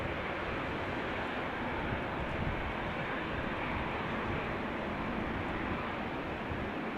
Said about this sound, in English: The KLM 777-300 is on the move